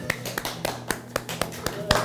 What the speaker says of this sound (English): Do it by applause.